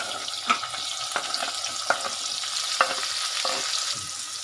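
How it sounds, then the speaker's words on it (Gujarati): A tomato goes into hot oil already tempered with asafoetida, garlic and green chillies for a Gujarati valor papdi shaak, giving a steady close sizzle with a few sharp clinks of stirring. "હવે આપણે 1 ટમેટો નાખીશું."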